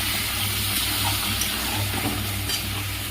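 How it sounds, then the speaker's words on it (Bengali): Hot water pouring onto grated coconut during cooking, with a steady close splashing rush that runs unbroken and evenly loud from start to finish. "নারকেলটা পড়ে আছে, একটু গরম জল দিয়ে দিই।"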